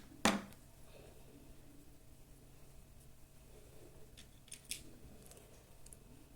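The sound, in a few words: scissors cutting crochet thread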